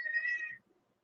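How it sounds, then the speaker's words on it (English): A pet cat gives a single short meow, clear and close, cutting off after about half a second into quiet. "Of course, my cat's going to decide to talk."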